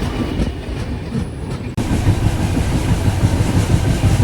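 A Sengottai to Tambaram express train with a rake about a year and a half old runs on the rails, giving a loud, continuous rumble with rhythmic wheel clatter throughout.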